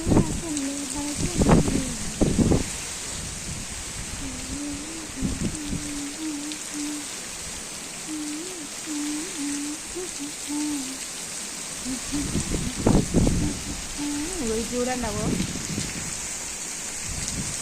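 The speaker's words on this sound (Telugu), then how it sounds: "అది ఎట్లా వాన కొడుతుంది ఫ్రెండ్స్" Heavy rain pours steadily, a dense hiss throughout, while someone speaks intermittently over it.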